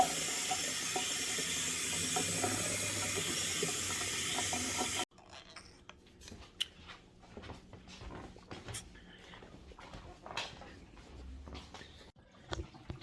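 Tap water pours into a rinsed one-gallon vinegar jug with a loud, steady rushing. After about five seconds the flow cuts off, leaving quieter scattered clunks and handling noises.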